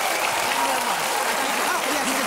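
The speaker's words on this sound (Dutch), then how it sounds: "Geef je een hartelijk applaus." A studio audience gives warm, dense applause for a singer, continuous loud clapping with voices faintly audible underneath.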